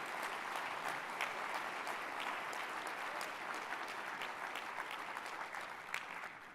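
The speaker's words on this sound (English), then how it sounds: "I'd like the awardees to stand up for an applause." A conference audience gives award winners a sustained round of applause, dense steady clapping from a large crowd filling the whole stretch without pause.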